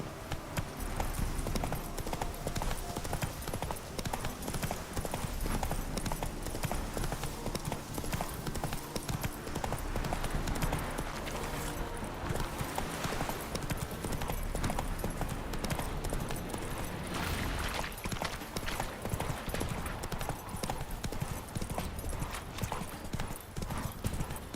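Roach, a horse in the video game Witcher 3, gallops steadily in a fast, continuous clip-clop of hooves that stays loud and near throughout, with a brief whinny and snorting mixed in.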